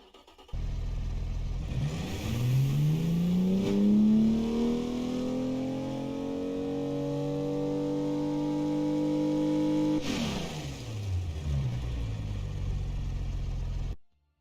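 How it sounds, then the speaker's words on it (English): A 315 cubic inch single overhead cam, 3-valve Boxer 6 aircraft-style engine cranks and catches, then revs up steadily and holds a loud, rising drone before dropping back and cutting off, close and alone with no talking. "So we have a 315 cubic inch single overhead cam, 3-valve, Boxer 6."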